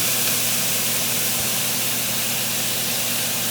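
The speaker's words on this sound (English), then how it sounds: "You can hear how it almost deglazes the pan." Meat juices sizzle and hiss steadily in a hot pan while a chicken dish is being cooked, a dense, close, continuous frying spray with a faint low hum underneath.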